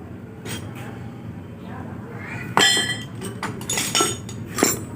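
A small hammer taps on engine parts of a Vega motorcycle during assembly of the front engine and magneto block, with a few sharp metallic clinks over a busy workshop background and someone talking.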